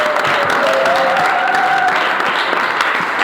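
Class of students applauding a classmate's answer during a lesson, brisk, loud group clapping close by, with a faint voice or tone lingering underneath.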